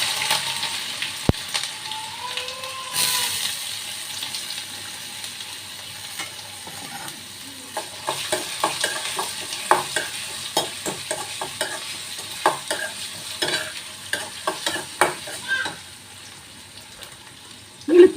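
Mustard seeds and ginger frying in a pan, a soft sizzle under repeated scraping stir strokes and scattered seed pops, growing busier toward the end.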